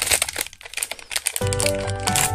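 Plastic packaging of a Janmang Loopy random blind-box figure is torn open with close, crinkly rustling for over a second, then gives way to steady tonal background music.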